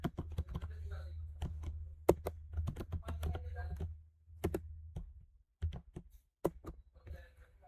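Commands typed on a computer keyboard into the Cisco Packet Tracer router command line during dynamic NAT configuration, with rapid irregular key clicks in close bursts over a low steady hum and brief pauses between runs.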